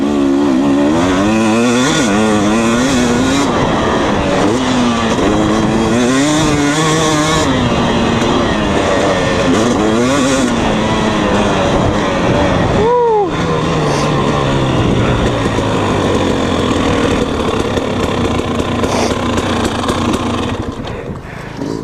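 A 2020 KTM 250 SX dirt bike engine revs loud and close while riding and jumping, its pitch rising and falling repeatedly, with a sharp rev spike midway and a continuous buzzing drone throughout.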